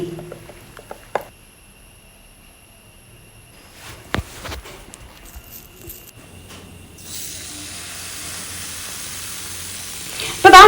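Coconut dosa batter cooks on a hot pan. The kitchen stays mostly quiet at first, with a few knocks and clinks, then a steady, loud sizzle starts about two-thirds of the way in and lasts to the end.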